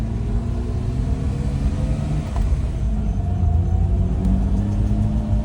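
A BMW E30 325ic's engine runs steadily while the car drives slowly through a neighborhood, a smooth continuous low rumble with faint tonal whine that holds at a constant level throughout, no voices present.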